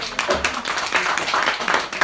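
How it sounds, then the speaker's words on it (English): Brief applause from residents at an HOA board meeting, a short burst of clapping from a small indoor audience at moderate, uneven loudness. "So big round of applause."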